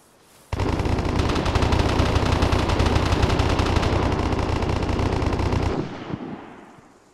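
A light machine gun in the game Vigor opens up suddenly and fires a long, loud, unbroken burst of rapid shots for about five seconds, then stops abruptly with a fading echo.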